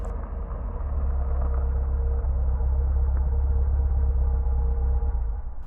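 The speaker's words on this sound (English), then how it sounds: "there is a flare of headlights through the front window as you all hear a car pulling up." A car engine rumbles steadily at a low idle as the car pulls up, with a constant mid-level hum and no voices.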